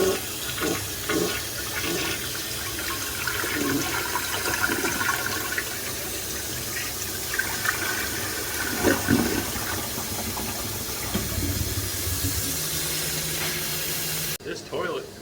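An old toilet flushes with a loud rush, then its tank refills with a long, steady hiss of running water. The tank's water level is set too low.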